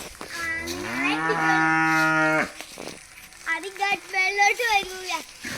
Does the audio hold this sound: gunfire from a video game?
no